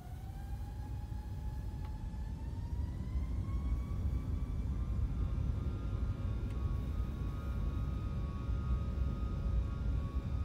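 A Boeing 737 MAX 8 in Microsoft Flight Simulator 2020 throttling up for takeoff, a steady loud engine rumble with a rising whine that climbs and then holds, heard alone.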